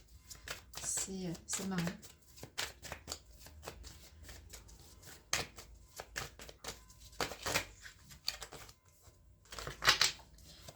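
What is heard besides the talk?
handling and drawing tarot cards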